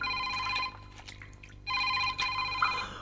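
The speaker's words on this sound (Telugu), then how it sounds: "ఉండు, నేను ఫోన్ అటెండ్ చేస్తాను." A telephone bell rings in two close bursts with a short pause between, fairly clear and without talk.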